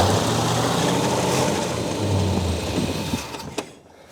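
A Dodge Dart V8 with four-speed and mufflers cut off cranks and fires, a loud, rough, continuous engine roar that cuts out abruptly near the end.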